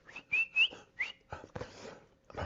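A person whistles for a dog, a few short rising and sliding whistle notes in quick succession, followed by softer shuffling sounds nearby.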